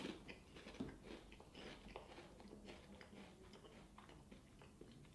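Someone biting and chewing a barbecue-flavoured Pringles chip, heard as faint, close crunches followed by soft, irregular chewing clicks with no talking.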